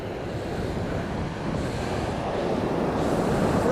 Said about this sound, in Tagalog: Alon, alon oh.